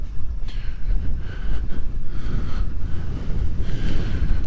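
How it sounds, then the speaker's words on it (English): Strong wind buffets a microphone outdoors on an open WW2 bomber training range, producing a loud, continuous low rumble and roar with gusting surges throughout. "It's bloody windy out here."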